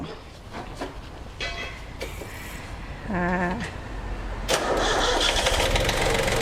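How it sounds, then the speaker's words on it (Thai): A Yanmar F175 17-horsepower Japanese farm tractor cranks with a whirring starter, catches, and settles into a loud close diesel run, with bleeps and a faint background voice early on. "เดี๋ยวจะพาพี่ๆมาฟังเสียงสตาร์ทรถนะคะ ฟังเสียงเครื่องยนต์กัน"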